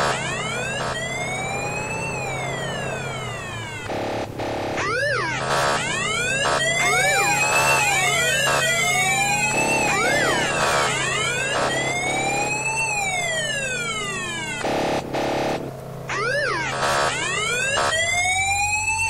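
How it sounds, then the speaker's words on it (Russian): Emergency siren lights on a Mercedes-Benz G500 in the off-road driving game Spin Tires: a loud, close electronic siren sweeping up and down in repeated wails over a low engine hum, with brief changes in pattern. "Попробую настроить, чтобы у него, ребята, мигалки выключились."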